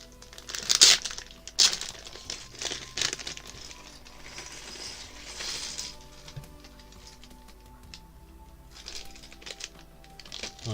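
LEGO pieces are tipped out of a resealable plastic bag: close crinkling of the plastic and a brief clatter of small pieces at the start, then quieter rustling.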